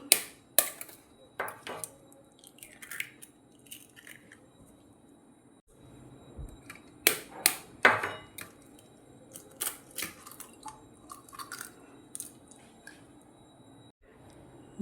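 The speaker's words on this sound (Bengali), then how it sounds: "এবার একটি বাটিতে দুটো ডিম ফাটিয়ে নেব।" Two eggs cracked into a bowl while preparing green banana pakora, with sharp shell taps and knocks against the rim, scattered small clinks of kitchenware and soft squishy drops spread through an otherwise quiet kitchen.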